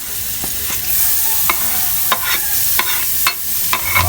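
Onions sizzle in a hot pan for beef mechado, with a steady frying hiss broken by repeated scraping stirs from a utensil, loud and close.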